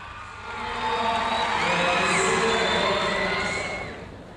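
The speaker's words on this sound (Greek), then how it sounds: "προλάβαμε την αποθέωση στο τέλος και το χειροκρότημα" A rhythmic gymnastics arena crowd applauds and cheers, a broad wash of clapping and shouting that swells and fades over a few seconds, heard from a distance with a voice talking over it.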